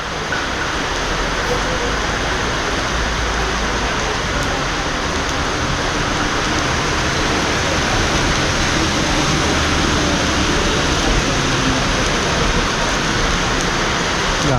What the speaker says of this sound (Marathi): पावसाने हजेरी लावले संगमेश्वरमध्ये